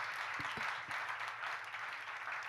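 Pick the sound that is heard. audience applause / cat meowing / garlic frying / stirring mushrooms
audience applause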